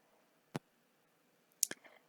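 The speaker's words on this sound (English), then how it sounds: "so let's cut this yarn." Scissors snipping crochet yarn for an amigurumi reindeer ornament, a quiet single click followed a second later by two or three close, crisp snips.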